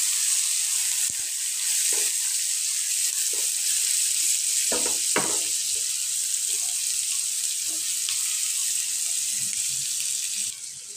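Small onions and garlic fry in a pan with a loud, steady sizzle and hiss, occasionally broken by brief stirring clatter and scrapes.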